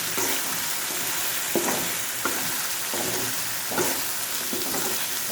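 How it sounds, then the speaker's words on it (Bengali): Okra (bhindi) frying in a pan sizzles steadily up close while a spatula stirs it, giving several distinct scraping knocks at irregular intervals, with no voices. "এদিকে আমি ভেন্ডিটা একটু নেড়ে চেড়ে মিশিয়ে দিচ্ছি। মিশিয়ে চুলার আঁচটা কমিয়ে ঢাকা দিয়ে দেব।"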